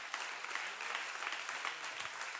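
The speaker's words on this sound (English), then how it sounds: "Clap your hands one more time." A church congregation claps their hands during a sermon by a guest reverend, a steady wash of many hands that is fairly faint and continuous with no voices over it.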